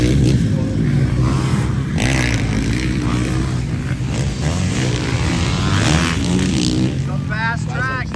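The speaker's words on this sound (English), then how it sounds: "I think we got some fast bikes out on track." Motocross bikes racing on a pro national track, with a continuous roar of engines revving and droning nearby, under speech throughout.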